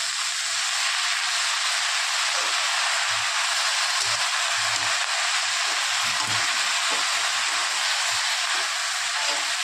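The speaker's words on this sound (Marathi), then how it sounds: "याला छान फिरवून घ्यायचं." Rice and vegetable dish being stirred in a pan, a dense continuous sizzling hiss with soft scraping thuds of the spoon scattered underneath throughout.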